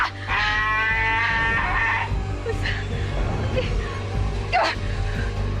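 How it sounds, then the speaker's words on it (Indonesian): Several goats bleat in harsh, wavering cries over a steady low hum, with a few shorter calls trailing after. "Itu kambing-kambing ngejar aku."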